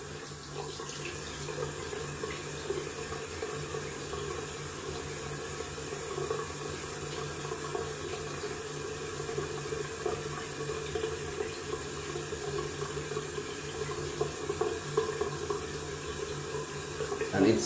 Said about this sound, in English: Let's have a quick rinse.